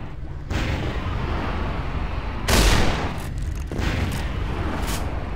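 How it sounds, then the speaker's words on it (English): Heavy explosions boom in the video game Vampire: The Masquerade – Bloodlines, with loud, broad blasts and a sharper burst in the middle, under sustained rumbling combat noise and no speech. "Wow, these explosion radius are gigantic."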